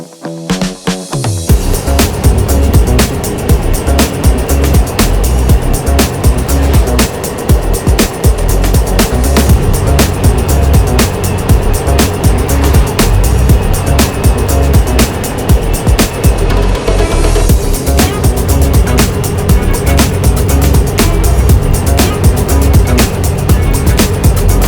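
An older Honda Vario 125 scooter-style motorcycle accelerating along the hot asphalt of the Trans Sulawesi road, a steady, loud engine drone with heavy wind rush that holds close and constant throughout.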